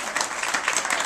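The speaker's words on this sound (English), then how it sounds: "Give them a nice round of applause." Audience at a telethon applauds in a short, dense burst of clapping that stays fairly even and moderately loud throughout.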